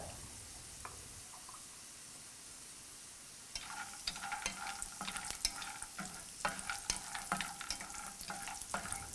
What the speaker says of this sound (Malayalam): നമ്മൾ എടുത്തു വച്ചിരിക്കുന്ന കാഷ്യൂസ് ഇട്ട് ഫ്രൈ ചെയ്യുക